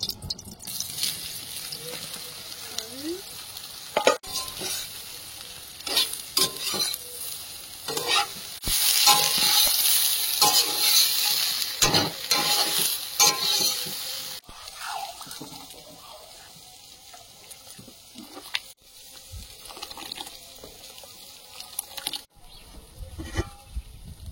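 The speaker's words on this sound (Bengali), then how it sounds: "সয়াবিনটা ভেজে নেব।" Soybean chunks frying in a pan, a hissing sizzle that swells loudly in the middle with repeated scraping and knocking of a stirring spoon, up close, with brief indistinct voice in the background.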